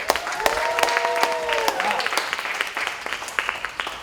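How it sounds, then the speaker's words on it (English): Audience applause after a speaker's call at a beauty pageant training event, a steady crowd of clapping sustained through the clip with scattered whoops and voices mixed in. "Give yourselves a huge round of applause."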